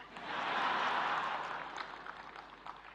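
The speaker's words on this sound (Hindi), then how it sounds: "ताली बजा रहे हैं" Men in an audience at a creators' award ceremony clap together, a broad steady wash of applause that swells early, then thins and fades into scattered claps, heard from a distance with no talk over it.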